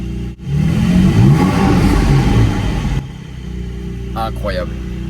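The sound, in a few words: car engine revving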